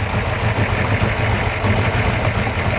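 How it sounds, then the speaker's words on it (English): A big block Chevy marine engine idles on a race boat, giving a steady, loud, deep rumble with a throbbing low-end vibration that runs without a break and has no talk over it. "only listening to the sweet sounds of freedom from a big block Chevy"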